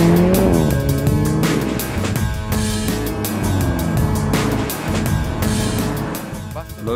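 An Alfa Romeo 4C sports car roars loudly while driving, its engine note rising and falling through gear changes with a steady, close, continuous growl.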